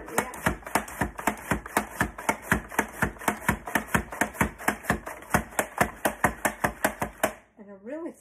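A knife slices beef and broccoli for a stir fry on a cutting board, making a steady run of about thirty evenly spaced close chopping thuds, then stopping.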